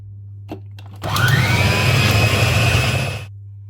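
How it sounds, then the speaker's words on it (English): Food processor pureeing rum-soaked fruits for a Jamaican black Christmas cake, a couple of faint clicks followed by a loud, close motor whir that starts abruptly, runs steadily for about two seconds, then stops. "So I'm going to puree that now and have it ready"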